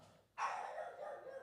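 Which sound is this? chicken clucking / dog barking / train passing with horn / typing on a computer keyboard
dog barking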